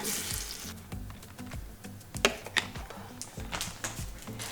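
Scallops cooking in a pan, giving a soft steady sizzle and bubbling with a few brief clinks partway through, close and fairly quiet, with no talking.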